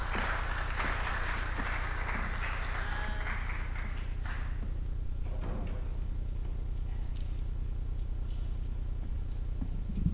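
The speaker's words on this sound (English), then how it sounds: "Another round of applause for Irene as she takes her seat." Audience applause at a KITFEST 2024 tech event, a steady dense wash of clapping that fills the whole stretch at moderate loudness with a constant low hum beneath and no clear talk.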